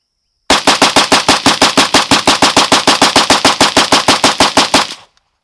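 A rifle fitted with a Krebs Custom UFM rail empties a full magazine on an outdoor range, a loud, rapid, evenly spaced string of close shots lasting about four and a half seconds before stopping abruptly.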